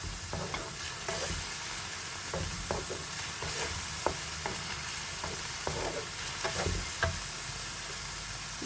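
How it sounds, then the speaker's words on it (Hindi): Garlic and onion fry in a pan with a steady close sizzle, broken by scraping stirs and light clinks, with no voices. "तो लहसुन को भी साथ में भून लेंगे।"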